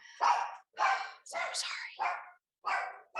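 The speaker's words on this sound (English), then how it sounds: "Oops, sorry about my dog." A small dog barks repeatedly indoors, about five loud yappy barks in quick succession with short gaps, and a person speaks briefly between them.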